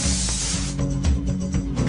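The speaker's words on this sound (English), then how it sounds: "Spray onto all of the surfaces in the room and into the air." Hand spray bottle misting a diluted bleach-and-water solution over room surfaces and into the air, several quick hissing spritzes in close succession, near and loud.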